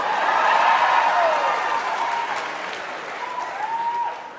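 A comedy club audience breaks into a loud round of applause and cheering that fades gradually over a few seconds, with a voice starting to speak near the end.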